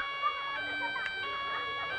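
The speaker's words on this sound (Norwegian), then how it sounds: "Og så har han sirene. Og den er litt nifs, og nå kommer lyden." A toy police car's siren wails in a steady, layered electronic tone, moderately faint and continuous throughout, with brief background sounds.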